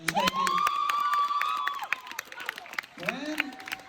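An audience greets a performer at a live concert with clapping and cheering, while loud whistles rise and hold over the crowd noise and scattered sharp claps continue throughout.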